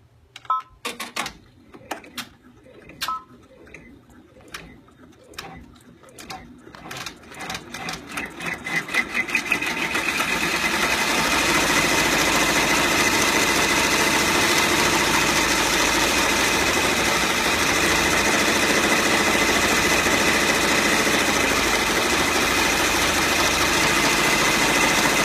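A sewing machine runs an appliqué tack-down stitch on fabric for an owl freezer-pop cover, starting with a few slow, separate stitches that speed into a loud, continuous whirring hum close by.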